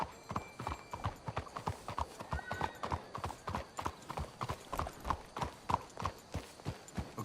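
Horse hooves clip-clop at a steady walking rhythm in Red Dead Redemption 2, close and clear, with each footfall a crisp knock over faint background ambience.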